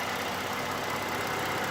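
A 2010 Ford Fusion Sport engine idles steadily after a water pump replacement, a smooth continuous hum with no breaks, heard close and alone.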